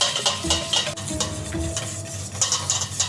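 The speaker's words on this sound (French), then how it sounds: "vas-y, on va commencer à fouetter ça" Rapid rhythmic whisking of homemade mayonnaise with mustard and oil by hand in a bowl, the whisk clicking and scraping in quick close strokes, no talk.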